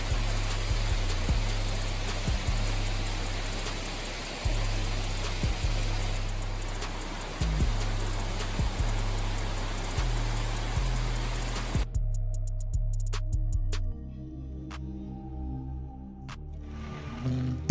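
Raging flood water surges during a powerful storm, a loud, steady broadband rush with repeated low thuds, ending abruptly into quieter, sparser sounds.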